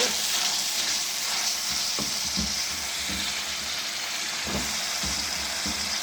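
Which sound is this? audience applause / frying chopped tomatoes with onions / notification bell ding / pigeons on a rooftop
frying chopped tomatoes with onions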